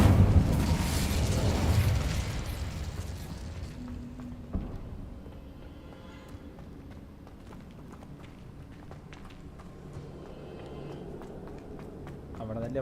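A burst of the Incendio fire spell erupts in Hogwarts Legacy: a loud, roaring blast at the start that trails off into a quieter rumble of game sounds, with a faint voice in the background.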